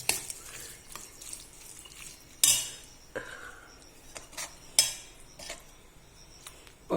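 A spoon stirs curd rice in a pot, with soft scraping and a few sharp metallic clinks against the rim at irregular intervals. The sounds are close and fairly quiet, and no one speaks.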